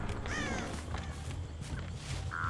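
Crows cawing overhead in the horror video game Dead by Daylight, a few harsh calls rising over a steady layer of game ambience and footsteps, moderately loud with no talk.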